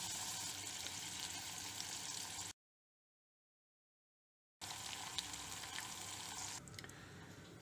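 Coconut milk cream sizzles and fries steadily in a pan over a low flame while homemade coconut oil is being made, a dense close crackle broken by a gap of silence partway through.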